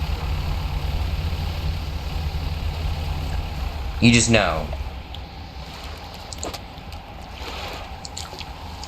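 Boat engine idling steadily in the fishing game Dredge, a low continuous hum under spoken voice, with a brief louder splash-like burst midway.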